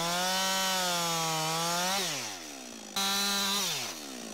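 A chainsaw bucks a felled tree into firewood logs, its engine roaring at high revs then dropping as it bogs into the cut, briefly cutting out, then revving hard again before easing off, loud and close.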